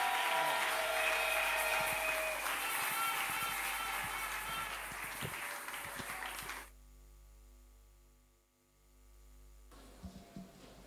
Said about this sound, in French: nous applaudissons le Seigneur et nous l'accueillons